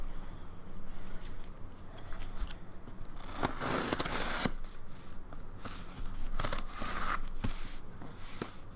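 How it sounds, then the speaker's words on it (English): Close-up crisp snipping and crinkling as scissors cut open tightly sealed plastic packaging, irregular cuts and rustles, moderately quiet with no talking. "I'm gonna need scissors for that."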